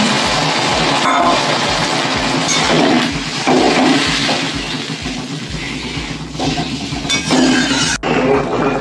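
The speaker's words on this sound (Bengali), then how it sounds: "আমি এবার গরম জল ছিল, গরম জলটা দিয়ে দিলাম।" Hot water poured into a pan of fish and potato curry after the spices have been fried, giving a loud, continuous rushing hiss and bubbling with scattered metallic clinks, and no talking.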